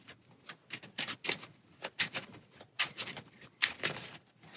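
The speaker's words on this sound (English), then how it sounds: "So reshuffling our encounter stack" Marvel Champions encounter deck cards being reshuffled, a quick series of crisp riffling flicks and taps in irregular bursts, close and fairly quiet.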